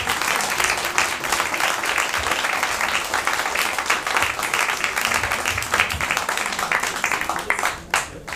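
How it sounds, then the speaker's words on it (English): Sustained audience applause fills a temple room during a Sri Krishna Janmashtami program, dense steady clapping from a crowd that continues evenly throughout before thinning slightly near the end. "Again, please, big applause."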